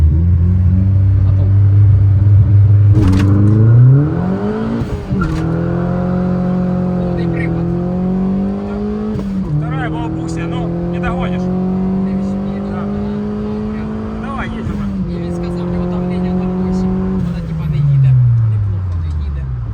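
Turbocharged cars, including turbo Ladas and a turbo BMW, launch from a race start. Engines rise loudly through revving gear changes and accelerate hard over a steady rumble, while people talk and laugh over them throughout.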